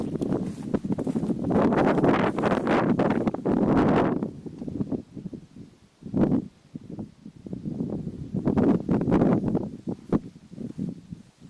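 Heavy wind buffets the microphone in loud, rough gusts, dropping briefly before roaring back in uneven bursts.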